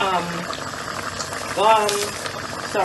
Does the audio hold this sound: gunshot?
no